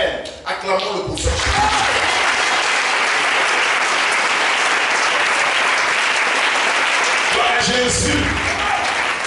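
A church congregation applauding the prophet during a Sunday worship service, a loud, dense, sustained wave of clapping filling the room for several seconds, with voices calling out briefly at the start and end.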